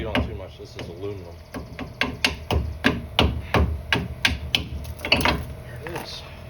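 Repeated close, loud metallic hammer blows strike an aluminum axle part during a Chevy Silverado axle swap in a workshop, a steady rapid series of clanging impacts with a brief pause midway.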